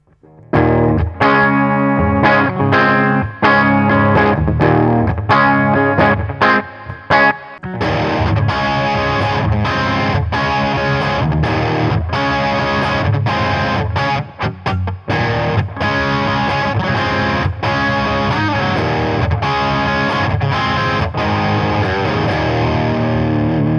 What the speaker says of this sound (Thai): เรามาเริ่มฟังที่เสียงคลีนของตู้แอมที่เราเซตไว้ก่อนดีกว่า